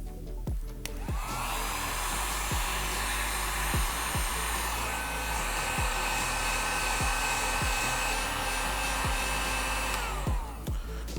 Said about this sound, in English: We'll simply apply heat to the outside and the inside of the pod evenly